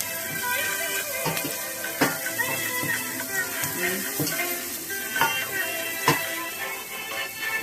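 Small onions, shallots, tipped into a pan and fried for wheat rava upma, with a continuous crackling sizzle and irregular clanks of a spoon against the pan, close and fairly loud, with some voice in the background.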